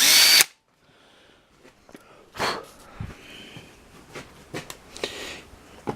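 A drill bores through a broken head bolt stud on a Briggs engine, with a loud whine in the opening half second, then quiet with short scattered bursts of tool noise and handling.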